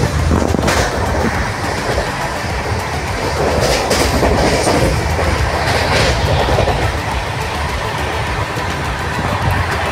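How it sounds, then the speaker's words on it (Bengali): The 12343 Darjeeling Mail passenger train running at speed, heard from inside a darkened coach: a loud, steady roar of wheels and carriage rumble with rhythmic clacks and a few sharp knocks. "একবার জাস্ট আওয়াজটা শুনুন ট্রেনের"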